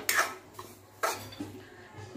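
Roasted semolina stirred with ghee in a pan, two sharp scrapes of a spoon against metal about a second apart, followed by softer shuffling strokes, close up with no talking.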